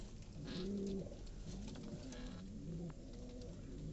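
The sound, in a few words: pigeons cooing outside in summer heat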